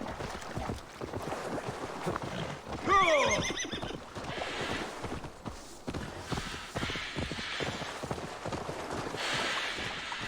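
A horse in Assassin's Creed Valhalla whinnies loudly in one sharp, rising-and-falling call near the middle, amid steady clip-clopping hooves and game ambience throughout.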